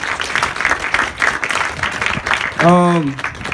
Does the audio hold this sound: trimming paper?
no